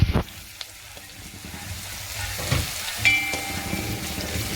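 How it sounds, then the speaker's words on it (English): Scallion, garlic and onions stir-frying for Jamaican beef patty filling, a moderate sizzle with a few sharp utensil knocks and scrapes, close by with no speech. "So we're gonna fry them off, you know. We're gonna do like a stir fry."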